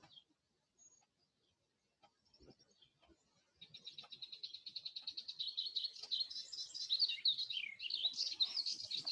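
Birds sing outdoors in quiet surroundings, starting with sparse faint chirps and then swelling into a continuous, fairly bright run of rapid trilling calls, with no talking over it.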